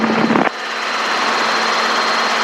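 A helicopter flies over the Long Beach area near the Queen Mary, its steady broadband rotor and engine roar holding constant and fairly loud, with a brief burst of radio noise at the start.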